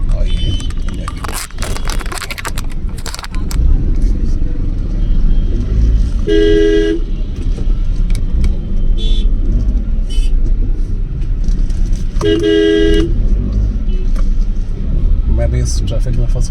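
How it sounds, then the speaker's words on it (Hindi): Congested traffic near India Gate, New Delhi, on New Year, with cars and auto-rickshaws honking: two clear horn toots stand out over a steady engine rumble and crowd noise, while people talk throughout. "मैं भी इस ट्रैफिक में फंस गया हूँ सिर्फ ऑटो वाले की वजह से।"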